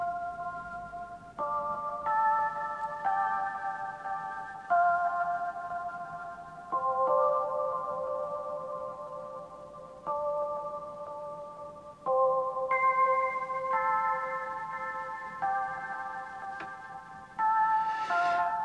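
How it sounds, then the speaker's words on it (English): A microKorg synthesizer doubles the main melody line, playing sustained tonal notes in shifting chord-like stacks, clear and steady with a faint background hiss and no voices. "So I've actually just doubled up the main melody with that sound."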